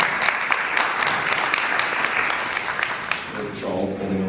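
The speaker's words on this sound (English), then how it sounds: "Let's have a round of applause for Chuck and all the work that he does also." Conference audience applauding, a steady wash of many hands clapping at moderate level throughout, with a voice starting to speak near the end.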